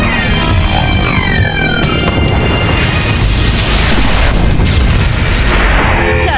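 Sentry guns pounding a ship in the Clear Skies space battle, heavy continuous booms and blasts with crackling bursts, loud and dense throughout with no pause and no voices.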